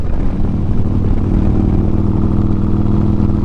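A 2009 Harley-Davidson Road Glide cruising at steady speed, its loud low engine rumble continuous and even, with wind and road noise mixed in.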